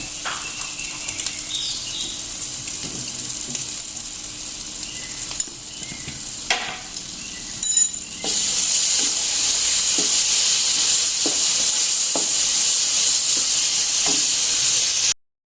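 Coriander, cumin and anise hit hot oil in a frying pan for rendang, a loud, bright hissing sizzle after a few stirring clinks and a quieter start, holding steady to the end.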